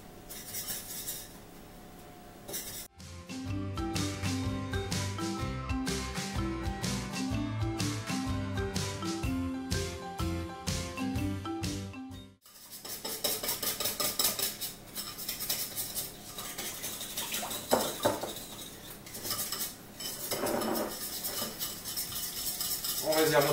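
Orange juice and icing sugar glaze being mixed, with rapid clinking of a utensil against a bowl in a steady rhythm, close and moderately loud, set among other kitchen sounds.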